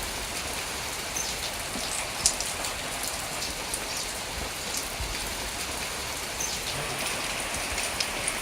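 Steady unseasonal rain pattering on surfaces in Buldhana, an even, close wash of droplets with a few sharper drips standing out.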